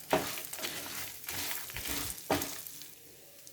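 Dried red chillies and ginger pieces frying in oil in a pan, a steady close sizzle with occasional sharper crackles and stirring scrapes, heard alone.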